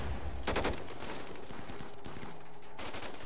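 Rimworld colonists open fire, with two sharp bursts of gunshots, one early and one near the end, separated by a quieter stretch of background sound and no talking.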